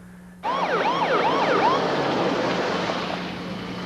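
Clayton County Fire Med ambulance arriving with its siren abruptly switching on, loud rapid wailing sweeps close by, then a steady tone.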